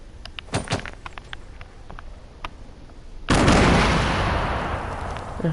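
Grenades detonate in a video game, first a few sharp cracks and thuds of combat, then a loud, sustained broadband blast at about three seconds that slowly decays, close and dominant with no talking.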